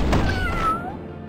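A cat soldier enemy in the video game Epic Battle Fantasy 4 gives a single drawn-out meow with a gliding pitch, loud and close over steady game background music.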